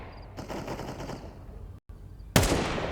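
Desert Eagle pistol fire in a Counter-Strike esports match: loud, clipped game gunfire crackles through the first half, drops out briefly, then a sharper, heavier burst hits near the end, with no talk over it.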